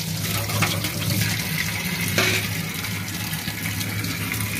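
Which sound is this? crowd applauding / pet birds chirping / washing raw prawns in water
washing raw prawns in water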